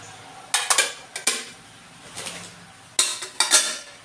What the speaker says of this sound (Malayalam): ഇതേപോലെ നമുക്ക് അടച്ചിട്ട് ക്ലിപ്പിട്ട് വെക്കുകയാണെന്നുണ്ടെങ്കിൽ പിന്നെ ഒന്നും പുറത്തേക്കൊന്നും പോകുന്നുള്ള പേടിയൊന്നും വേണ്ട